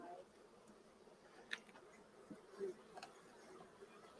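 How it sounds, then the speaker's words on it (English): Honey bees hum in a low, steady drone across a crowded hive frame, faint and continuous, with a few brief clicks and soft handling sounds over the buzzing. "there's a lot of bees on this frame"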